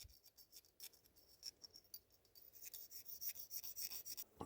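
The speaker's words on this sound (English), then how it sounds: "take a fresh chainsaw file and work all the way around this consistently" A fresh chainsaw file rasps around the edge of a metal shotgun magazine extension for a Panzer EG200, steady close strokes in quick rhythmic succession, scratchy and bright, with no talking.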